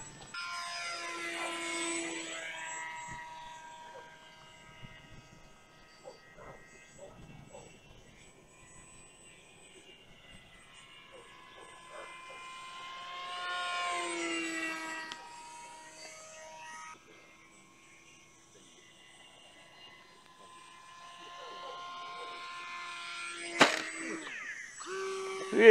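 A GeoBat foam RC flying saucer drones overhead, its electric motor whine rising and falling with harmonic sweeps as it passes near, fades, and returns, then a sharp knock near the end as it touches the ground and lifts off again.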